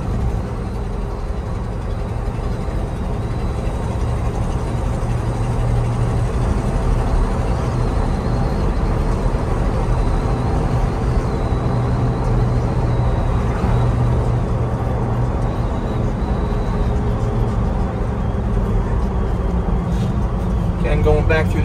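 A 1968 Ford F-250 Highboy 4x4 pickup with a four-speed gearbox drives in fourth gear through an S-curve, its engine a steady, loud low drone throughout, with someone talking over it.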